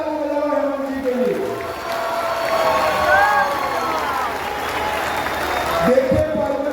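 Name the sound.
crowd applauding at political rally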